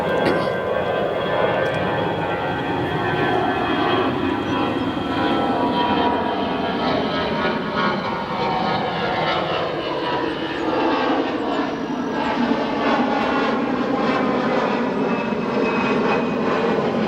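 An American Airlines A319 takes off at O'Hare Airport, with a loud, sustained jet engine roar that holds steady and close throughout, with shifting tonal whine layered over a broad rumble.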